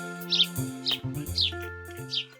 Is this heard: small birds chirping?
yes